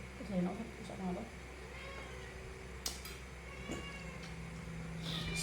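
At a dinner table, a cat gives a few short meows, faint and close by. Soft background noise and eating sounds run underneath.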